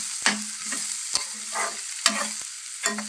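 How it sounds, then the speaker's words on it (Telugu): Amaranth stalks and leaves fry in oil while a utensil stirs them in several distinct scraping strokes about a second apart, each followed by a hissing sizzle, close and clear with no voices. "ఒకసారి తిప్పుదాము."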